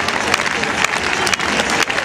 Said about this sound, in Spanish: Marcos pidiendo palmas, palmas Benidorm, palmas